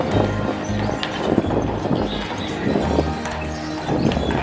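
Horses' hooves clop steadily along a Mackinac Island street, a continuous rhythmic clatter set against busy outdoor street noise.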